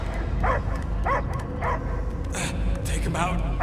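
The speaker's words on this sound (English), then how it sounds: "I hear only barking" Several short, sharp dog barks and yips recur under steady background noise, with talking voices mixed in, in the game Marvel's Guardians of the Galaxy.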